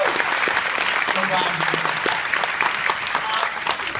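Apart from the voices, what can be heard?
audience applause for Chris Carter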